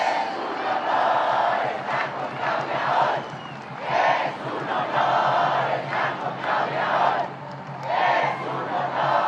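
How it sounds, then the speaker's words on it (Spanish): A large crowd at the Mexican president's address chants and cheers in rhythmic rising and falling waves, a roaring mass of voices loud throughout. "Un aplauso a nuestros diputados y senadores."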